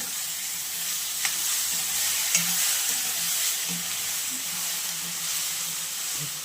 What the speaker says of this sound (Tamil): ஊற்றி ஒரு கிளறி